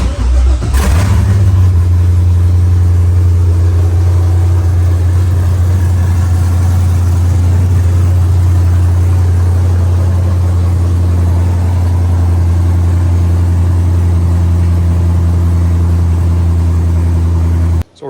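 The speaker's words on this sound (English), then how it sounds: "I should be able to start the car." An LS-swapped Nissan S14 240SX cranks and catches, then settles into a loud, steady V8 rumble with a strong low drone that holds close and continuous until an abrupt cutoff.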